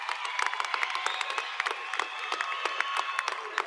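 A graduation audience applauds students with steady, dense clapping and a few whoops, moderately loud and continuous for a few seconds.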